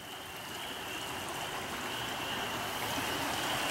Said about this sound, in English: You see the water down there flowing very strongly.